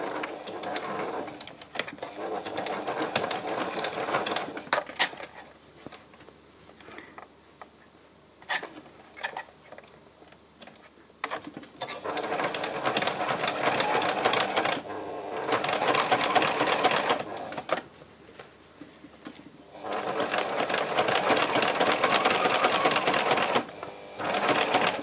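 Sewing machine stitching fabric with matching thread, running in several sustained bursts separated by short pauses, steady and close, with no talking.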